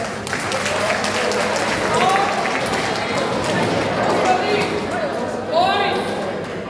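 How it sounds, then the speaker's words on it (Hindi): Students at an art and craft exhibition in a school hall clap in a steady, dense patter, with a crowd chattering and shouting over the applause. "तालियां बजाओ"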